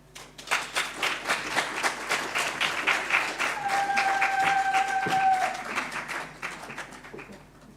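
An audience at a Botswana business launch gives a hearty round of applause to welcome a speaker, claps building quickly and then thinning out toward the end, with a brief tonal whistle heard partway through.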